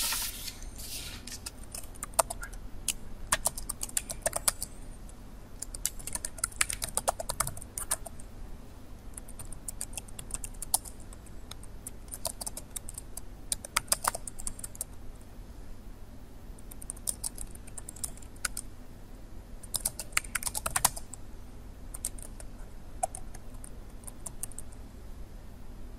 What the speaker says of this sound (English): I can just carry on and type in the rest of the text